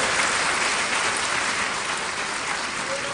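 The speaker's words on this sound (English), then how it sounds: "Please applaud her." Dense, even applause from a large audience at a university congregation ceremony, a steady rain-like wash of clapping heard at a distance.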